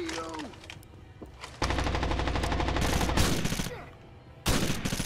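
Rapid automatic weapon fire in Rainbow Six Vegas 2, loud bursts of machine-gun shots starting and stopping in sequence, with a voice talking over part of it.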